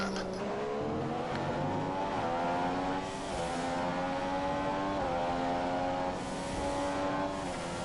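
A Red Bull Formula 1 car in F1 2015 screams past with a high, rising engine whine, gear shifts stepping the pitch through a steady, loud drone of racing cars with no talk.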